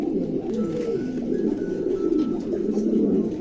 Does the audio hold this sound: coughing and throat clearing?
no